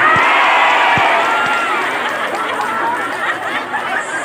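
Applause and cheering from an audience for the organisers at an Islamic sermon in Bongas, Indramayu: a loud, dense wash of crowd noise with clapping and chatter mixed in, fading slightly toward the end.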